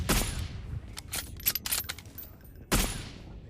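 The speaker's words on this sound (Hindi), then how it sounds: "अचानक से M4 चलने लगती है।" M4 rifle fire in PUBG Mobile: several sharp gunshots in quick, uneven succession, with a louder single crack near the end, fairly close and with no talking.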